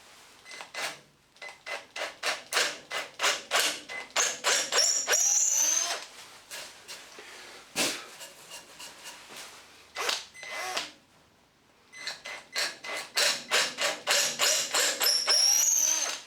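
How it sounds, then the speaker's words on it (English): A power drill bores 8mm dowel holes in wood, a workpiece with a snapped screw, in repeated short pulsing bursts: a long run of whirring spurts, a pause with a few isolated bursts, then another dense run, close and loud. "And then just going to drill the holes out to the correct diameter."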